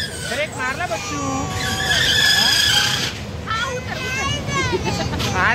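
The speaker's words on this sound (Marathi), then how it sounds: "बघ ते बघ ब्रेक मारला आता" A fun fair ride brakes and skids, a long rising and falling screech over rumbling machinery, loud and sustained, with excited children's voices and an adult talking throughout.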